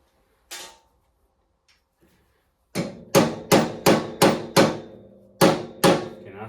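Sharp metallic hammer blows on stuck van brake parts: one isolated strike, then a steady run of about eight hard, ringing whacks, close and loud with brief decays.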